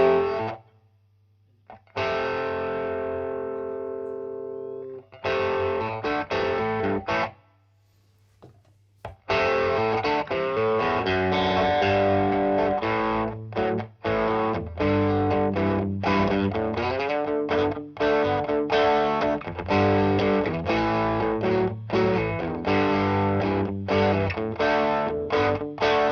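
An electric guitar runs through a drive pedal with the gain turned up, playing loud, thick distorted chords and riffs. After a few brief pauses near the start it plays continuously.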